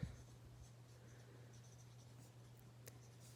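Quiet, continuous scratching of a pen writing notes during an algebra lesson, faint and steady over a low background hum.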